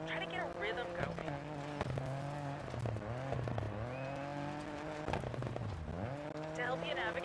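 A rally car in the Dirt 4 video game, its engine note rising and dipping as it brakes and accelerates through a run of corners, with tire noise and a voice talking over the engine throughout.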